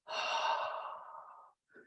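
A single long, audible exhale through the mouth comes during a qigong lung-strengthening exercise. The soft, airy breath fades over about a second and a half before a brief quiet intake follows, close and without talk.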